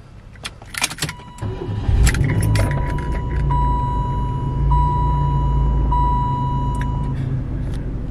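A 1993 Oldsmobile Cutlass Supreme convertible with 7,000 miles: keys jangle, then the engine cranks and catches into a loud, steady idle close by, with a repeating electronic chime beeping over it.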